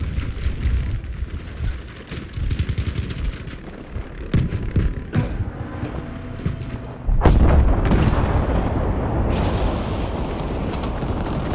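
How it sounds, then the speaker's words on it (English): An artillery barrage in the video game Battlefield 5 on the Hamada map in Breakthrough mode, heavy booming explosions rolling over scattered gunfire, building to a loud sustained roar. "Requesting an artillery barrage at these coordinates."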